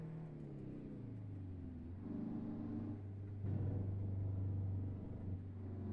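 A Diamond Reo Royale truck engine in American Truck Simulator drones at a low pitch, its rumble rising and shifting as it revs through the gears, steady and fairly quiet.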